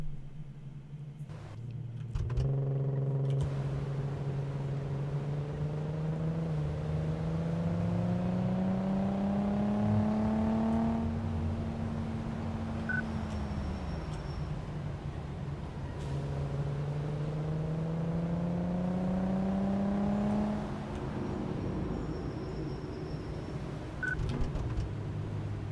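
Simulated car engine on a test drive in Car Mechanic Simulator 2014, a steady droning hum that rises in pitch through two long acceleration runs, dropping back between them, with no talking.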